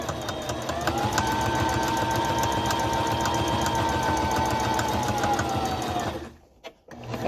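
A sewing machine stitches a fabric face mask liner with a steady, fast mechanical whir that holds for several seconds, then slows and stops, with a brief stutter as it back stitches at the end.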